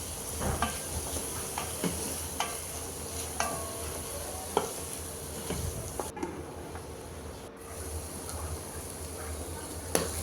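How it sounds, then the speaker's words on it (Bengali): Bitter gourd with sliced green chilies sizzles quietly in a pan while a spatula scrapes and taps against the metal at irregular intervals, a soft steady frying hiss underneath. "তো ভাজিটা আমি নেড়ে চেড়ে করে নিচ্ছি, ভাজা ভাজা করে।"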